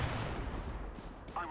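Gunfire from a tactical shooter match, a steady crackle of shots and game effects running throughout, fairly loud, with a voice talking over it.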